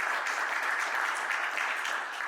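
An audience applauds for Ryan Regina of Big Sky Enterprises at a community gathering, a dense, steady burst of clapping throughout with no one talking.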